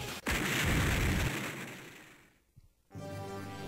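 A heavy, rumbling explosion from the 1987 Konami arcade shooter Ajax, where unseen enemies fire big blasts, booms loudly and decays over two seconds, followed by a brief gap and then a steady buzzing game tone.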